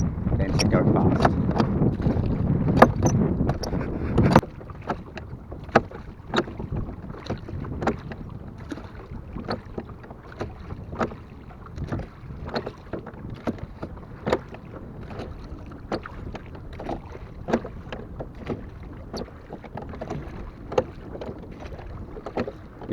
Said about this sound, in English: Now pull the oars closer together into the centre.